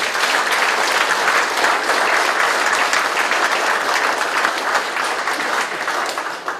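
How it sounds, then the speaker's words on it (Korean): Audience at the inauguration ceremony of a new central chairman of the Korea Retired Police Association gives a loud, dense round of applause that holds steady before easing slightly at the end. "한번 큰 박수 부탁드리겠습니다"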